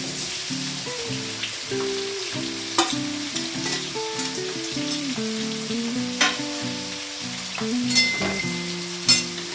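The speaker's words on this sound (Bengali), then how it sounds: "এই ব্রাউন ব্রাউন তেলটা আমার গরম হয়ে গেছে, এবারে ক্যাপসিকাম আর পেঁয়াজটা দিয়ে দেবো।" Capsicum and onion frying in hot browned oil give a close, continuous crackling sizzle, punctuated by a few louder spatters and stirring scrapes, with no one talking.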